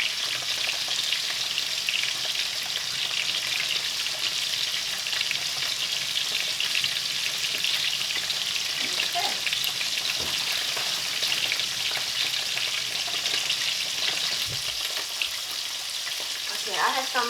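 Steady, loud sizzling of hot oil frying in a pan, continuous throughout with faint clinks near the end and no talking.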